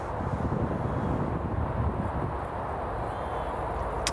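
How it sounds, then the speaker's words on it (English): Gusty wind buffeting the microphone outdoors, a steady low roar with rumbling surges throughout, no voices. "there's a bit of wind, a little bit gusty wind"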